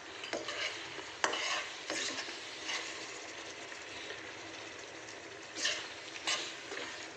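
Biryani masala with tomato sizzling in oil in a pan, stirred with a spoon in close scraping strokes and sharp scrapes over a constant soft frying hiss, no talk.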